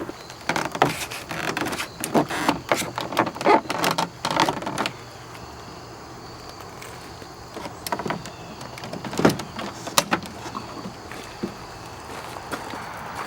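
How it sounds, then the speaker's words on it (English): Several sharp plastic pops and snaps in irregular bursts as a pry tool pops trim clips loose from a BMW X5 E53 door panel, close by, followed by a quieter stretch and a few more clicks near the end. "we'll take our pry tool and carefully pop the trim clips from behind the perimeter of the door panel"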